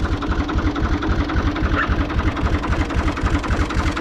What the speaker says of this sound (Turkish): Maaş dinamosunu yaptırınca bizim traktör düzeldi.